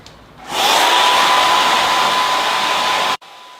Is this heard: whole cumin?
no